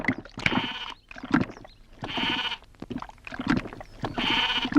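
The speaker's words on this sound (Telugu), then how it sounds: "మేక నమ్ముకురమ్మని పంపిస్తే మరిది గారు మళ్ళీ వెనక్కి తెచ్చారెందుకో?" A goat bleats repeatedly at a village home, its loud, close cries coming in roughly regular bursts with short pauses between them.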